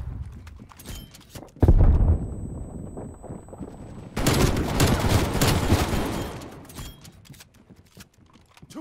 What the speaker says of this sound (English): Bullfrog shotgun. It's like just unlimited bullets.